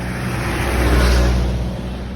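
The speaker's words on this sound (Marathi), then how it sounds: "गाड्या बघ गाड्या" Cars passing on a road in rural Konkan, a steady loud engine rumble that swells as a vehicle draws near and then fades slightly, with no talking.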